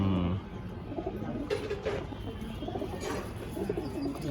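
A black Giribaz pigeon coos in low, soft repeated murmurs, heard close by against a steady background hum, with no speech.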